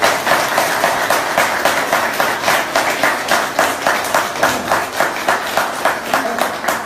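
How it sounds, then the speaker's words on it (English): Audience applause for the speakers at the close of a debate on apostasy in Sharia, heard as a steady, fairly loud patter of many hands with regular clapping pulses running throughout, no voices over it. "a round of applause for our speakers"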